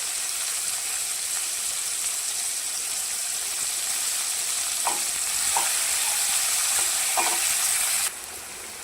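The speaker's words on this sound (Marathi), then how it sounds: "त्यानंतर कांदा हा चांगला ब्राऊन होईपर्यंत आपल्याला परतून घ्यायचा आहे." Onions frying in a pan until brown, a steady loud sizzle with a few soft stirring scrapes partway through, all on its own with no talk.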